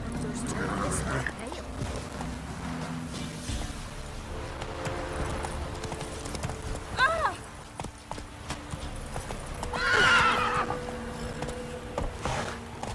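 Horse hooves clip-clop at a gallop in The Witcher 3 game, a steady thudding rhythm under voices and game music, with a brief whinny-like cry near the end.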